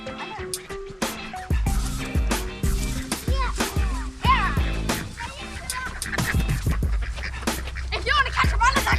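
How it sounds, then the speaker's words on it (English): Three female Indian runner ducks quack on a New Zealand homestead, their calls scattered among people talking and busy outdoor noise at close range. "we've actually got 3 female Indian runner ducks"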